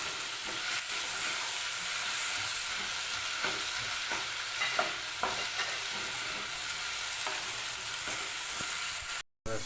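Tomato frying in a pan while being stirred, part of a mutton boti snack: a steady, close sizzle runs throughout, with scraping stir strokes rising over it now and then.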